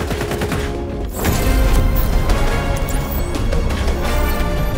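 Gunfire from the X-Defiant shooter video game, with dense, continuous rapid shots and crashes after a brief quieter opening, loud and sustained throughout.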